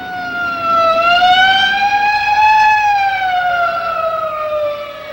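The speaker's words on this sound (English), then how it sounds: "Hey, a police car." A loud police car siren on a 1950s road wails in a slow rising and falling tone, close by and alone, with no voices.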